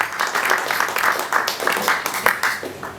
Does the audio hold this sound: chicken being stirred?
no